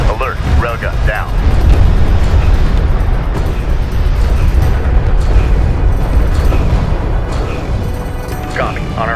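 Heavy rumbling railgun fire and explosions in the space strategy game Homeworld, a dense continuous roar with booming low-end impacts, overlaid by radio-style voice chatter.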